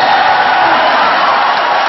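A packed volleyball arena crowd cheering and applauding in a roaring, continuous wash of noise, loud and close, with no break across the moment.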